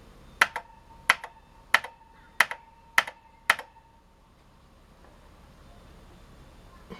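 Keys clack on a Tatung Einstein computer keyboard, six crisp, evenly spaced keystrokes close by, each followed by a softer release click, then quiet.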